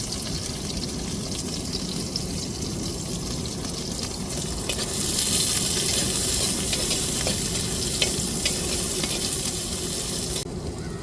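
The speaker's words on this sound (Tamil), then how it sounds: "வெங்காயம் நல்லா வதங்கி வந்துருச்சு" Onions frying in a pan for a quail pepper fry, a dense continuous sizzle that swells louder midway with occasional stirring scrapes, close and without voices.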